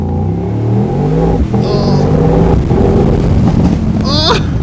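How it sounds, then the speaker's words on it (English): A 2026 Mercedes-AMG Mythos PureSpeed V8 roars through a launch-control start, its loud engine rumble rising in pitch as it accelerates hard, with rising whine and wind noise near the end. "let's do a launch control here."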